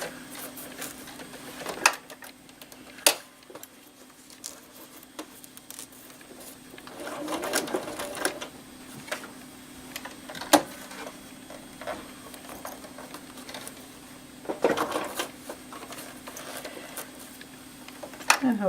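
A sewing machine stitches fabric for a reusable snack bag, running in a steady mechanical whir and broken by brief pauses and clicks of handling, close and clear with no talking.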